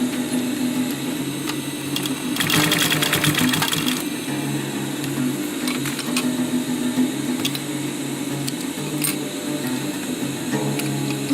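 A sewing machine stitches a fabric surgical mask, running in steady whirring bursts with a faster, louder rattling run in the middle and brief pauses between stitches.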